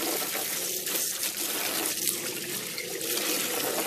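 Water streams steadily from a hose set out for animals to drink from outdoors, a continuous broadband splashing rush that stays even and fairly close throughout, with no talking.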